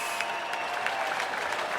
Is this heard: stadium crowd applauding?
yes